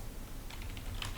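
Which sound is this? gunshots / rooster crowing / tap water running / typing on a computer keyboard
typing on a computer keyboard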